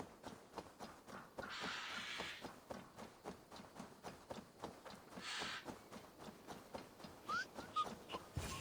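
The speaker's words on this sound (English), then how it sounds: "There, old hound" An old hound in the video game Assassin's Creed Valhalla gives soft whimpers and dog noises over a steady rhythmic patter of footsteps or hoofbeats, with a couple of short high whines near the end.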